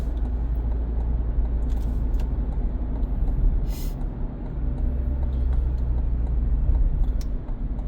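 A car drives slowly through a shopping center parking lot on a Friday afternoon, giving a steady low rumble with road noise and a few faint clicks.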